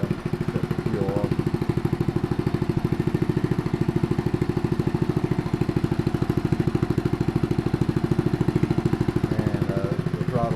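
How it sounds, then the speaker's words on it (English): Restored Wheel Horse RJ58 garden tractor engine idling after a governor adjustment, a steady, even mechanical putter with a fast regular pulse and light clatter, held close and unbroken throughout. "So yeah, the motor runs pretty good, huh?"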